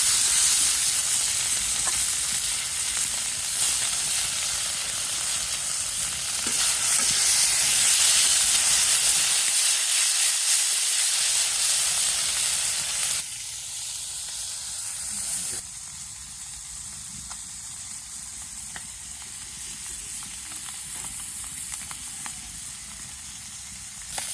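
Small fish sliding into hot oil with fried onions in a village kitchen, a loud, steady sizzle and hiss that dips and swells with stirring, continuing throughout.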